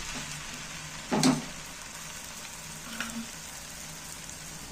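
Egg and potato frying in oil in a pan: a soft, steady sizzle with one brief louder spatter near the start, then a quiet crackle. No talking.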